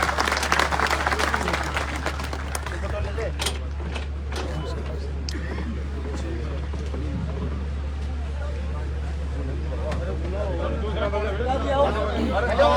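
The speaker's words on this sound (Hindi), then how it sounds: "इनके लिए एक बार जोरदार तालियों से अभिनंदन और स्वागत।" A crowd at a political party gathering in Shimla claps to welcome new members, a steady mass of applause and hubbub over a constant low hum.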